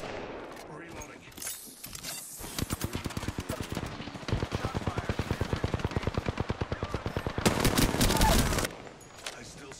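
Rapid automatic gunfire in Apex Legends, a long run of evenly spaced, sharp shots that gets louder near the end before cutting off. A player's voice talks briefly around the shooting.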